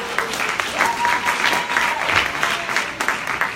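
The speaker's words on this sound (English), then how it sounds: "give yourselves a round of applause" Audience applause at a fitness and ketogenic diet session, a steady bright patter of many hands clapping with a few voices and a brief whoop over it, fairly close and even throughout.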